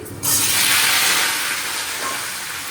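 Cauliflower frying in a hot pan gives a loud, steady sizzle that starts abruptly and then holds, easing slightly as it continues, with no talk over it.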